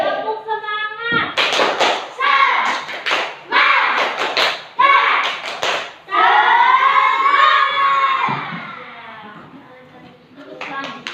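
A class of young children perform a rhythmic spirit clap together in a classroom, loud bursts of clapping and thumping in patterned groups with kids' voices chanting along and a teacher speaking.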